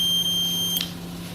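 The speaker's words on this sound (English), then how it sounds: "Once the temperature of the thermistor is down, the buzzer will stop working." A buzzer on a thermistor-based fire alarm circuit emits a steady, piercing electronic tone under a low mains hum, then cuts off abruptly near the end, leaving only the faint hum.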